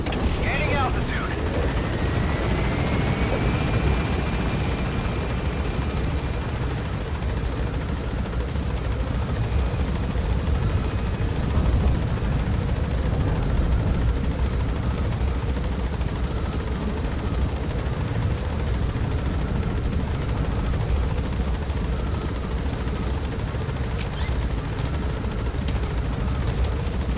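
A helicopter in the Metal Gear Solid V: The Phantom Pain game gains altitude with a steady, loud rotor and engine roar that stays constant throughout, starting with a brief rising whine.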